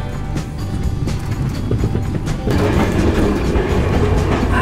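An old train rolling along rails in Patagonia near Bariloche gives a loud, continuous rumble with clattering wheel noise, growing noticeably louder and fuller partway through.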